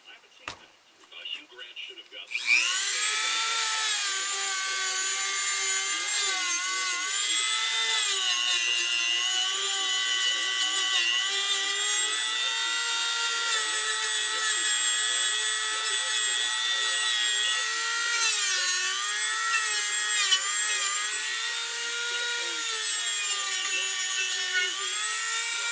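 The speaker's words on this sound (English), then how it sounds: "So I got an assortment of sanding things I'm going to use here" A high-pitched rotary power tool whirs steadily for a long stretch after a few brief handling knocks, its whine wavering slightly as it sands a wooden ventriloquist dummy figure.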